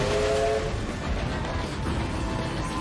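A train rumbles in a Bayonetta 3 video game trailer, a steady low roar with a brief horn-like tone at the start.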